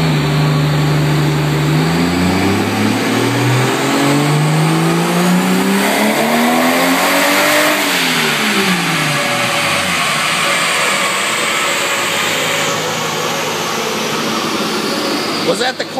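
An RB30DET engine on a dyno revs up and down in long sweeping pulls, loud and close throughout, with people talking over it.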